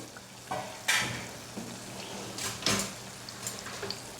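Mathri (farsi puri) frying in hot oil, a soft steady sizzle broken by a few brief scraping stirs and splashes as the pieces are turned, fairly quiet with no talking.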